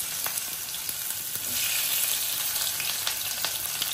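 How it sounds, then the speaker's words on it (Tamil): Onions dropped into hot oil give a dense, even sizzle with faint clicks of stirring, close and continuous for a few seconds. "எண்ணெய் காஞ்சோட வெங்காயம் போடுறேன்."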